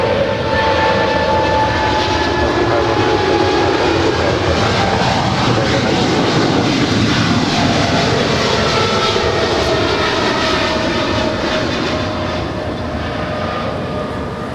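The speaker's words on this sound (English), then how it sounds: "China Airlines Cargo 777 freighter." A China Airlines Cargo Boeing 777 freighter jet powers past at LAX, a loud, continuous engine roar with rising and falling tonal whines that eases slightly toward the end.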